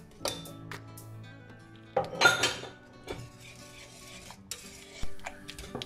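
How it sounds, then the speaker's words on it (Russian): A utensil stirs strawberry puree mixed with gelatin and chopped berries in a bowl, giving close, irregular scraping strokes with sharp clinks against the dish and a louder burst of mixing partway through. "И все перемешиваю тщательно."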